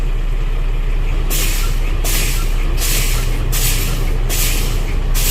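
A truck's air brakes being applied during a brake check, giving a series of loud rhythmic bursts of hissing air over steady engine idle. Several evenly spaced pulses follow one another, with no voices.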